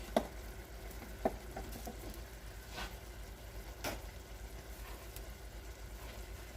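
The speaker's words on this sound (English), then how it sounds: "we're going to give that a good stir" A spoon stirs a pot of Puerto Rican-style chile with a bay leaf, giving a soft scraping swirl under a low simmering sizzle, with a couple of sharp clinks early on.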